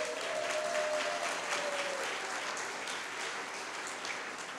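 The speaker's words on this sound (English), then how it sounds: "I want an applause for that." An audience at a Pecha Kucha talk night claps for a graduate, a dense, even round of applause held steady for several seconds at moderate loudness.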